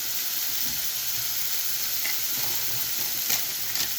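Poppy seed and mustard paste with turmeric go into hot oil in a pan, giving a steady, close, dense sizzle and frying hiss with a couple of faint clinks of stirring.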